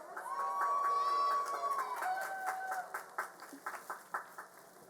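Applause and cheering from the crowd at a college commencement for master's degree graduates, a steady wash of clapping with whistles and calls, ending in a few separate louder claps.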